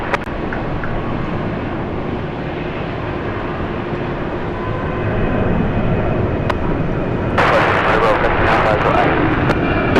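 Airplane on a runway during takeoff, a steady low engine rumble heard from a distance that grows louder partway through, then turns harsher with broadband roar and crackle as power builds.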